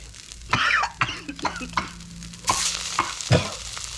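Quail meat sizzles and scrapes in a hot pan as it is stir-fried, with bursts of frying hiss and clanks, and a brief cough nearby.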